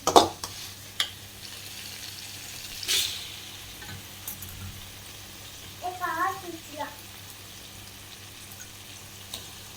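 Kalpasi spice is stirred into tomato masala frying with ginger-garlic paste, giving faint scraping clicks and a soft sizzle, with a brief voice partway through.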